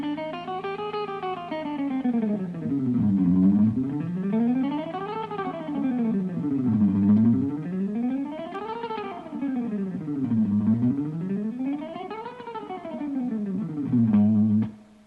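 A distorted electric guitar lead exercise: fast notes sweeping up and down in smooth repeating arcs, about four cycles, played alone and moderately loud.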